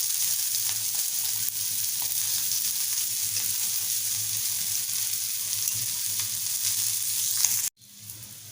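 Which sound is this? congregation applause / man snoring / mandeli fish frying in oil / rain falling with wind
mandeli fish frying in oil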